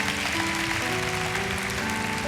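Dense, steady applause from a church congregation fills the space, loud and continuous, with sustained musical tones running underneath throughout.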